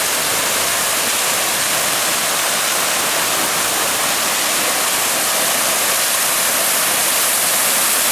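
Wasted water gushing hard from a leak in Jaboatão Centro, a loud, steady rushing torrent close by with no breaks, no voices over it.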